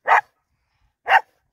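A dog gives two loud, sharp barks about a second apart, close by, with silence between them.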